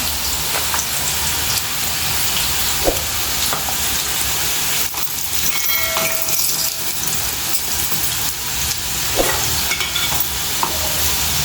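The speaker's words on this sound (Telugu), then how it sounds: "గోల్డెన్ కలర్ వచ్చేదాకా ఫ్రై చేసుకోవాలి" Bitter gourd slices fry in oil in a pan, giving a loud, continuous crackling sizzle with occasional stirring scrapes and no talking.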